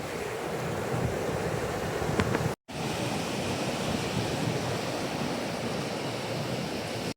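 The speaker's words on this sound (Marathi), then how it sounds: "आणि इथं बघा लाटा गार हवा सुटली एकदम गार मस्त वाटते" Sea waves and cool wind at night by the shore, a steady, dense roar of surf mixed with wind buffeting the microphone, continuous apart from a brief cut.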